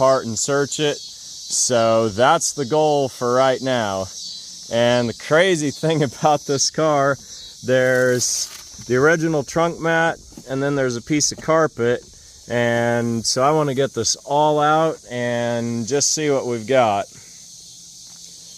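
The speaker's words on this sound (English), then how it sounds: "cicadas, just a little portable device that converts tree sap into ambient noise" Loud, steady cicada drone fills the high range throughout, persisting behind someone talking almost continuously about searching an old car at an abandoned farm.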